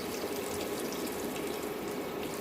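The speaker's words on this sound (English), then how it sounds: "I'm adding all this water with" Water pours steadily into a pot of fish curry with brinjal, a continuous splashing rush lasting a couple of seconds, with no talking over it.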